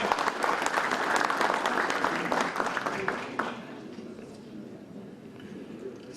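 At a federation's general assembly, an audience applauds to welcome a member of parliament to the podium, with dense clapping that fades out after a few seconds into quiet hall ambience.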